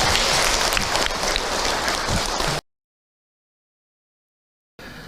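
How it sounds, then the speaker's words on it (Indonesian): Audience at an Islamic lecture clapping in a thick, steady burst of applause for about two and a half seconds, then a cut to silence before the clapping briefly resumes. "Tepuk tangan buat Bunda yang bertanya hari ini"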